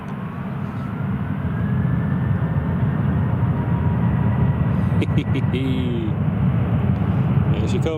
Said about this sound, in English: Listen to the engine spool on this